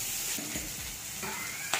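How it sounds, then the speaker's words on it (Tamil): Onions sautéing in a pan in a home kitchen, a steady low sizzle with scraping stir strokes of a spatula near the close mic, no talking. "வெங்காயம் வந்து வதங்கிடுச்சு"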